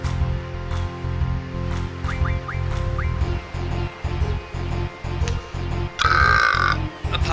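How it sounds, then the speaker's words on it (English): A long, gurgling human burp rolls out in repeated pulses over several seconds, heard close and loud above game music from Final Fantasy VIII Remastered. "I had that burp sitting there for a little while."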